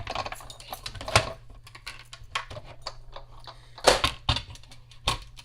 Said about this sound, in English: I think this is the last of our die cutting